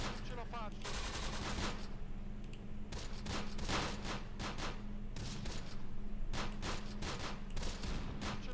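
Gunfire in the WWII tactics game Close Combat: The Bloody First, Italian commandos fighting armor around buildings, with steady rattling bursts and volleys of shots from several weapons, dense and continuous, while players talk over it.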